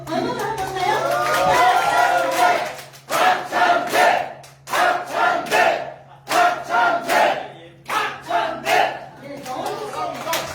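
A crowd of party members at an indoor meeting in Jeju cheers and shouts for Park Chan-dae, a politician running for party leader. Loud bursts of chanting and clapping come in rhythmic waves broken by short pauses, with an announcer speaking at the start.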